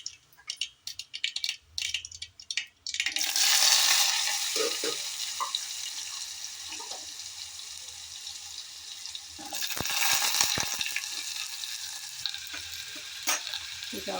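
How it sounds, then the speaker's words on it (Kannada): Mustard seeds crackling in hot oil for a sweet pumpkin palya, then pumpkin pieces dropped in with a burst of loud sizzling and stirring that settles into a softer steady fry, with a second surge later. "ಸಾಸಿವೆ ಚೆನ್ನಾಗಿ ಸಿಡಿತಾ ಇದೆ"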